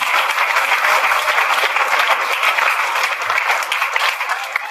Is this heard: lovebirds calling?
no